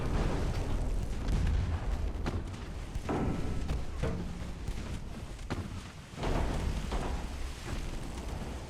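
Warship secondary guns fire in a naval battle in Ultimate Admiral Dreadnoughts, giving a steady stream of heavy booms and thuds. Loud blasts at irregular intervals rise over a constant rumbling din.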